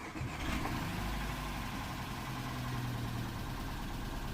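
A VW Tiguan with multiple faults and warning lights engine starts and settles into a steady, mid-pitched idle, close and continuous with no talking.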